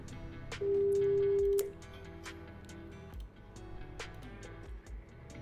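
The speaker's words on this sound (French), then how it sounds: "tu le vois l'interphone, je vais te le montrer. Si tu veux, je vais sonner, Chab." A prison intercom buzzer gives one loud, steady electronic buzz lasting about a second, followed by a quieter sustained tone against low background rumble.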